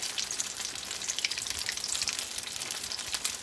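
Fried mac and cheese balls cooking in hot oil, a dense crackling sizzle with fine popping throughout, steady and close, with no talking.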